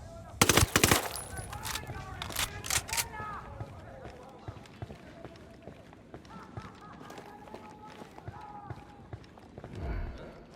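Gunfire in the video game Ghost Recon Wildlands: a burst of sharp shots at the start, then scattered shots and clatter over game background sound, with voices talking and a deep whoosh near the end.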